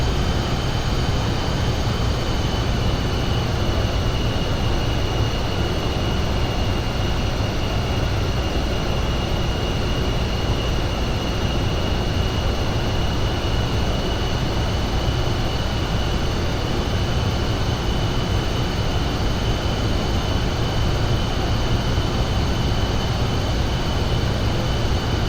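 Aircraft engines running steadily after the throttles are pushed up in flight, a loud continuous broadband roar with a faint high whine, constant throughout with no talk.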